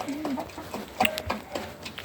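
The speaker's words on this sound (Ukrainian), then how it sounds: "Ось бачите, курочки тут" Chickens in a yard on a warm February day give soft, close clucks in a loose irregular rhythm, with other faint bird calls and a bit of background noise.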